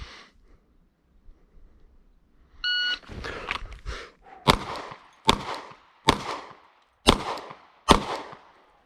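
Pistol shots from a Glock 48 fired during a modified Dozier drill on a range: a short spaced string of loud, sharp cracks with even gaps, preceded by a brief tone and some faint handling.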